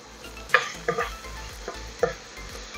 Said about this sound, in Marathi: लसूण छान खमंग असा परतून झाला की हा आपण बारीक चिरलेला कांदा घालणार आहोत।